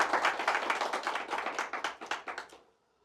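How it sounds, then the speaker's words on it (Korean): An audience at a social workers' association election debate claps for two candidates, a brief burst of rhythmic hand claps that fades out after about two and a half seconds. "두 분 후보자를 위해서 다시 한번 뜨거운 박수 부탁드리겠습니다"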